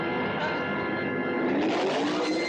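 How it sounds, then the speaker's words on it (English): A possessed old car's engine in a horror movie roars with a rising, revving tone, loud and continuous for a couple of seconds. "I think I hear the engine of that car."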